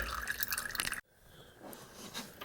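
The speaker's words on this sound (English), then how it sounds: "just let as much fluid as you can drip out of here" Power steering fluid drains from a hose on a BMW E46 during a hose replacement, with about a second of loud wet splattering followed by faint, sparse drips.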